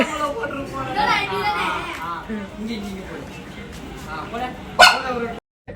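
A dog barks once sharply amid chattering voices, with people talking throughout.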